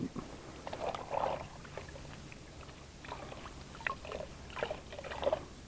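Hands being washed with a rag in a bucket of water after cleaning a paint roller: quiet, close sloshing and dripping in short irregular bursts, with no talk.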